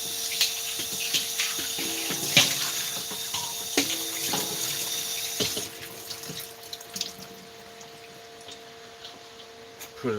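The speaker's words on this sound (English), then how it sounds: "Let's rinse this out." Tap water runs into a sink while something is rinsed out, a steady splashing trickle with occasional clinks and knocks, fading somewhat toward the end.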